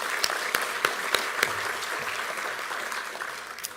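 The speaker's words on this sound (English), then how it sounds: "Give them a round of applause, please." An audience at a business leaders' announcement about a megasite development claps steadily, with a few sharp, close hand claps standing out early before the applause gradually thins.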